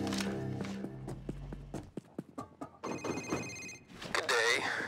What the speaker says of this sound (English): Phone's ringing. Time to pick it up and start this trade off.